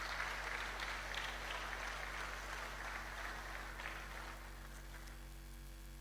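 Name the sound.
audience clapping at a university forum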